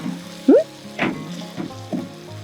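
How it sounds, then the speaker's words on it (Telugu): Tomatoes fry in a pan while a spoon stirs them, giving a soft steady sizzle broken by a few brief scrapes and clicks. A short squeaky tone sounds near the start. No one speaks. "బాగా కలిపేద్దామండి టమాటా మొత్తం మగ్గిపోవాలన్నమాట"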